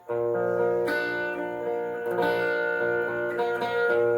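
Electric guitar plays a riff as a lesson demonstration, with sustained ringing chords and several picked and strummed attacks, clear and alone without talk.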